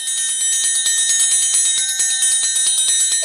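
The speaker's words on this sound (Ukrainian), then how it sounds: "Ти чуєш дзвін трикутника, таточку?" A triangle struck repeatedly in a quick, steady pattern, bright metallic ringing with sustained high tones shimmering throughout.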